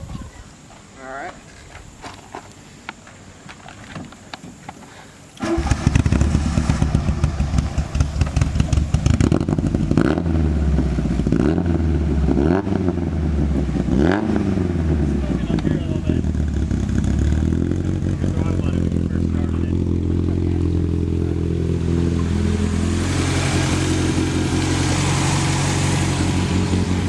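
A 32-year-old car engine, just treated with Seafoam, starts up after some quiet shuffling and then runs continuously with a rumbling idle and revving, while people talk over it.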